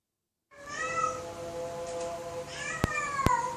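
A cat crying loudly in a long drawn-out wail after a brief silence, the tone bending up and down, with two sharp clicks near the end; close and clear, no voices.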